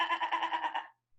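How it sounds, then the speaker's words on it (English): A goat gives a quick run of wavering bleats, about eight pulses in a row, fairly close and clear, ending abruptly with silence and no talk. "It's a goat."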